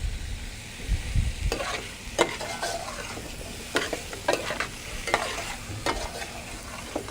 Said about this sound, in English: We just need to sweat them to release the juices.